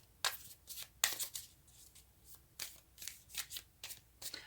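Tarot cards are shuffled in a quiet room, a series of soft riffling bursts and flutters repeating irregularly, close and gentle with no talk.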